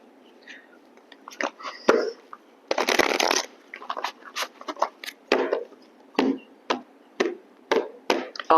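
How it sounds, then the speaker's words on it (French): Guardian angel tarot advice cards are shuffled close by in repeated crisp riffles and flicks, one longer burst early on, then a quick rhythmic series of card slaps. "on va prendre les cartes conseils du tarot des anges gardiens"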